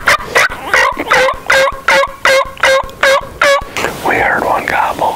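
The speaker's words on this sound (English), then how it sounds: "We heard one gobble." A wild turkey gobbles loudly and close by during a hunt, with a rapid run of repeated rattling calls followed by a rougher trailing burst.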